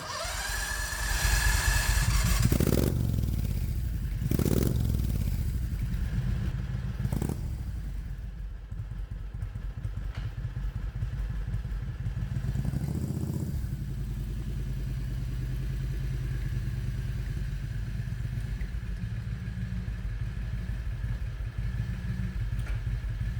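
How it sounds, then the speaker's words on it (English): A 670 cc Predator petrol engine in a go-kart-style Renault runs near and loud, with a few revving bursts early on before settling into a steady, rattly idle. "Let me fire up the engine and we'll see if this car will actually move."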